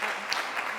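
An audience at a career expo day claps together in a brief, dense burst of applause, close and fairly loud, with no pause.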